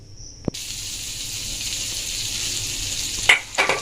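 Snack pieces shallow-frying in oil for a tiffin, a steady mid-level sizzle that starts after a sharp click, with a couple of louder bursts of spitting and scraping near the end.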